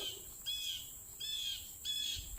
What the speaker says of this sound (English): I hear my bird.